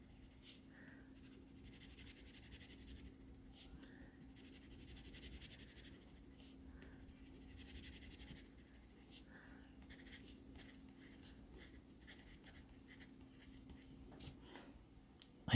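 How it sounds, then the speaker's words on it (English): A soft-graphite Musgrave No. 1 vintage pencil writing on a hard surface, faint continuous scratchy strokes in short bursts with a low background hum, close and quiet. "I'm going to write on a hard surface and see if that makes a difference."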